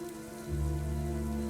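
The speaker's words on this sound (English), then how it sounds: "Is it the rainy season here in the Verduso Mountains?" Warm rain falls in the Verduso Mountains of the AFK Journey video game: a steady rain wash under a tonal ambient drone, growing fuller and louder after the first half second.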